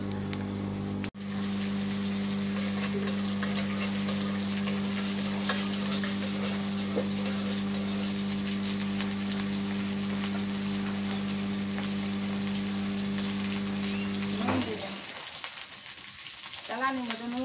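Garlic and green chillies frying in a pan for hilsa pulao, a steady sizzle under a constant low hum, cut off sharply near the end and followed by faint sounds.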